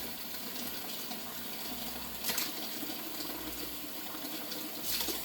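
Tap water runs steadily into a bowl of cold water in a kitchen, a close, even gush and splash with a couple of slightly louder surges.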